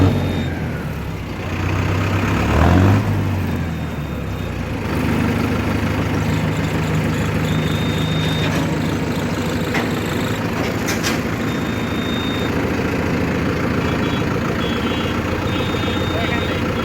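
A Mahindra Novo tractor engine in fresh condition idles steadily with a low, even diesel rumble and faint higher tones, running continuously at close range with no other sounds breaking in.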